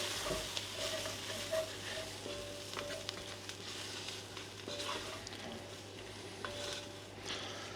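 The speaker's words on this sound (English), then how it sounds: "our lovely stew, and we're going to give that a little bit of a stir through" Beef stew mix with plain flour stirred through in a pot, a soft continuous sizzle with occasional light scrapes and clinks of a spoon against the pot, close but fairly quiet and without speech.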